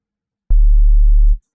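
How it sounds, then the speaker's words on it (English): Two sine waves layered on a synthesizer for neuro bass design, forming a loud, steady low tone that starts abruptly, sustains for just under a second alone, then cuts off. "We have two sine waves now."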